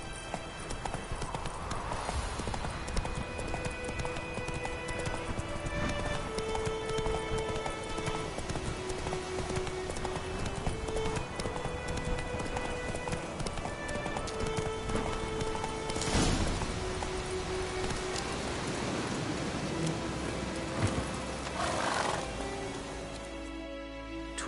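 Hoofbeats of Roach, Geralt's horse in The Witcher video game, a steady rhythmic clip-clop of a riding horse over a bed of game music, with a brief voice.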